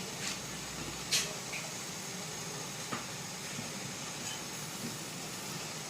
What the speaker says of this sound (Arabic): نحركها هكا نخليها تغلي غلوه وحده برك